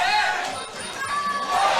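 Boisterous crowd noise at a live fight event, a broad continuous roar rising and falling, with cheering and shouts filling the arena.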